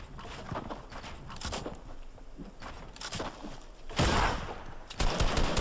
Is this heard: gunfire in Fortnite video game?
yes